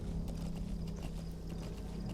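Horse hooves clip-clop steadily in Metal Gear Solid V: The Phantom Pain, a continuous galloping rhythm with a low rumble beneath, loud and close without any talk.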